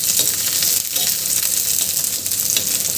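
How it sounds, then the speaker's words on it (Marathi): Onions frying in oil on a flat griddle pan, a steady, close, loud sizzle with fine crackling that runs unbroken the whole time, no voices. "मी इथे तेल टाकलं आहे तव्यावर आणि हे कांदे आपल्याला भाजून घ्यायचे आहे"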